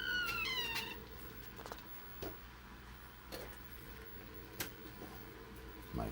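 A cat meows in short rising calls at the start, then only faint scattered ticks and rustles follow in a quiet room.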